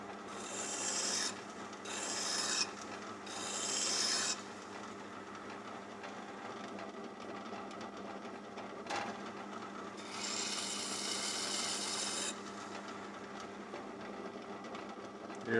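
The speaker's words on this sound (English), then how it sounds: "I'm just going to use a file just to put a slight bevel on that corner" A hand file rasps a bevel onto the corner of a metal clamp jaw in bursts of bright scraping strokes, close up, with short pauses between sets.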